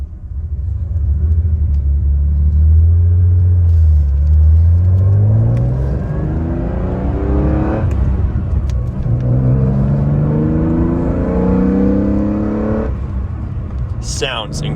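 A 1977 Porsche 911S Targa engine drones loud and close from inside while driving, climbing in pitch through two gear pulls with a shift between, and a voice talks over it.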